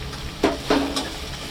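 Chopped onions hit hot oil with green chilies, ginger and curry leaves for potato masala, giving a soft, close sizzle broken by two or three quick stirring scrapes, with no talking.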